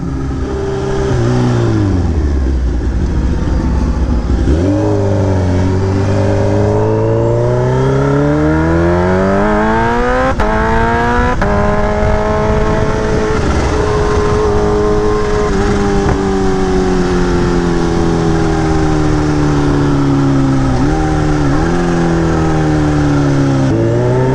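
A Kawasaki Ninja H2 motorcycle engine revs steadily while being ridden, its pitch climbing and falling through repeated gear changes, loud and close throughout with no voices.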